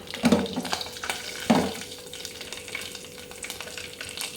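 Mustard seeds and cumin crackle in hot oil, a low steady sizzle with two louder bursts near the start, then a softer even hiss.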